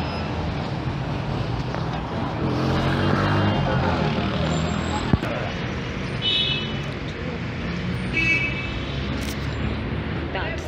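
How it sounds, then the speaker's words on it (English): Road traffic near a busy roundabout on a Saturday: a steady, dense roar of cars, trucks and buses passing close by, with a brief sharp knock partway through and no voices heard. "that traffic on Saturdays, it's a mess."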